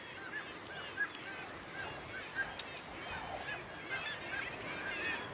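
Many European shags call from crowded cliff nesting ledges on Hornoya, Norway, during spring courtship, their harsh croaking calls overlapping as a steady colony din with a few louder nearby calls.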